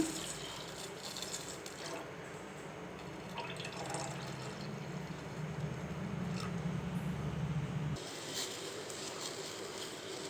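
Milk streams steadily into a pot for several seconds, then the pouring stops and a softer background remains.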